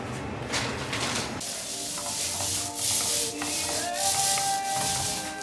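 Sandpaper of 120 grit rubs across a bathroom surface in quick back-and-forth strokes, a close, dry, hissing scrape that rises and falls rhythmically.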